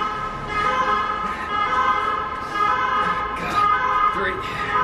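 An ambulance siren wails outside a home, its rising and falling tone sweeping steadily over several seconds at moderate distance, while a voice talks over it.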